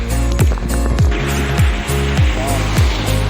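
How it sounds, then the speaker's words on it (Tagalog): Sea waves at low tide surge and wash continuously at close range, loud and rough, with repeated rushing swells and a steady churning background. "Grabe bang alon."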